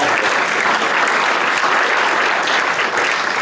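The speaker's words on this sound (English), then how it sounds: "I have to get a round of applause" Steady, dense applause from an audience at the Epsom & Ewell Business Awards 2013, loud and continuous throughout with no voices standing out.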